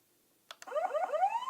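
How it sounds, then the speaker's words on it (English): A double siren danger alert from monitoring software: two quick clicks followed by a rising electronic wail that repeats, clear and alone against near silence. "or a double siren."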